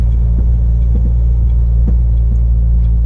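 A French delivery truck rolls along with a steady, loud low rumble from the cab, a continuous drone with faint knocks and no voices.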